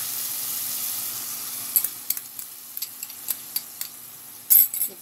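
Minced meat fries in a pan as garlic ginger paste is added, a soft steady sizzle broken by several sharp clicks and scrapes from stirring, with a louder knock near the end.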